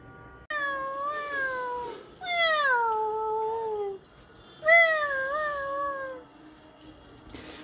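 A voice imitates a cat's meow, giving three drawn-out, wavering meows close to the microphone at a fish market, with faint background noise between the calls.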